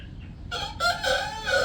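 Roosters crow and cluck up close, several drawn-out calls overlapping in a loud, harsh burst with no talking.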